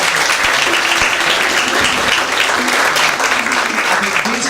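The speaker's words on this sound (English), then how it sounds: "I think they deserve another round of applause." Panelists at a Streatham community question-and-answer event receive sustained, loud applause from the audience, filling the whole stretch with dense clapping.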